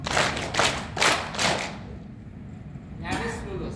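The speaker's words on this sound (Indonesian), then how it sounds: "Perhatikan tepuknya seperti ini. Drop, drop, tap, drop." Hands clap a rhythmic pattern in a clapping lesson: four crisp, evenly spaced claps in quick succession, followed by a pause and then a voice speaking.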